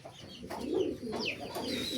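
Large merpati kolong pigeons coo in low, throaty, rolling calls, repeated several times at close range with a few higher chirps mixed in.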